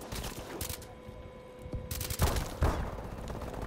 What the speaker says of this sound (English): Why are my teammates shooting me?